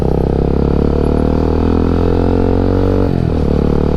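NK250 motorcycle fitted with an Akrapovic exhaust, its engine droning loud and steady at close range with a deep throaty rumble, then the pitch dips as the throttle eases near the end; no talking.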